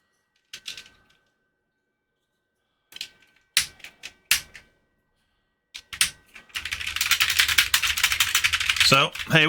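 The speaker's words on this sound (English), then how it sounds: "So here we are, the keyboard." An Amiga computer keyboard being handled for cleaning: scattered clicks and clunks in separate bursts, then a dense, continuous clattering rattle that fills the last few seconds.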